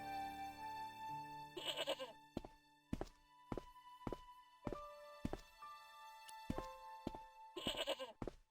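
A goat bleats in the video game Broken Sword, wavering cries at the start and end framing a string of sharp hollow knocks and thuds, with steady tonal game music underneath.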